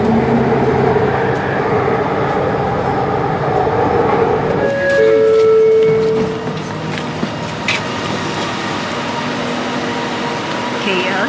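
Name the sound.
train ride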